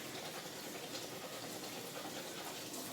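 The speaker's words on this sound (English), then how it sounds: "Fruit is cut, then I'll rinse." Cut fruit rinsed under a running kitchen tap, giving a steady, even rush of water that continues unbroken for the whole stretch at moderate loudness, with no voices.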